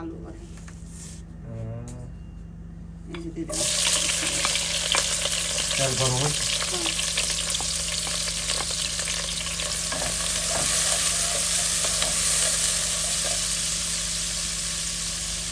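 Shrimp, onion and garlic drop into hot oil and burst into a loud, continuous sizzle that holds steady throughout, with brief voices speaking before and during the frying.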